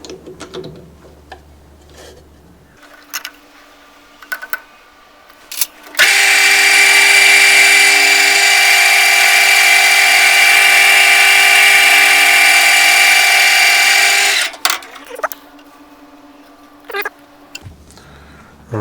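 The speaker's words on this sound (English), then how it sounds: "I'll go and set this up in the lathe and I'll drill them out first" A lathe with a 3-jaw chuck drills out the bore of a 3D printed plastic gear for a wool carder, a steady loud mechanical whine lasting about nine seconds, framed by clicks and handling noises before and after.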